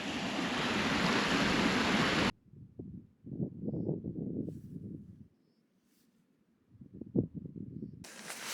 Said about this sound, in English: And right by the brook.